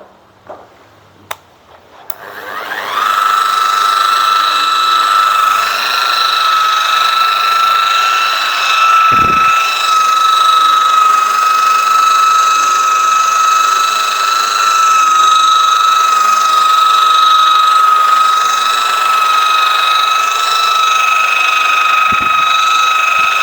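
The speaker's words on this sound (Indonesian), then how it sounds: "kita mulai melakukan proses pemolesan ya. Kita mulai dari kap motornya dulu." A rotary polishing machine with a heavy-cut pad runs on the hood of a Nissan Livina X Gear, starting after a few seconds of quiet and holding a steady, loud whine close by.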